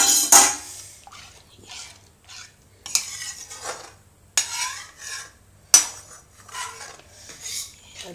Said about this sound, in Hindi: अब इसको चलाते रहेंगे, गैस को तेज कर देंगे।